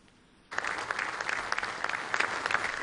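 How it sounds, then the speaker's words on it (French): Dignitaries in the auditorium of the presidential palace break into applause. The clapping starts abruptly after a short quiet moment and continues as a dense, steady patter with no speech over it. "sous les applaudissements des personnalités présentes"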